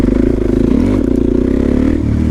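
A motorcycle's engine drones loud and close as the rider jumps off a bank into a wheelie, its pitch wavering and lifting briefly mid-way under rattling clatter.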